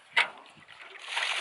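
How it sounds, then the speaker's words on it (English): Water is poured into a bucket of harvested wild clay: one brief splash at the start, then a soft, steady slosh and trickle, faint and close, with no one talking. "So the next step is to add water."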